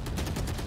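Rapid gunfire from a Valorant match as shots land on Sage, a dense burst of cracks repeating evenly through a short stretch, fairly quiet and with no talk.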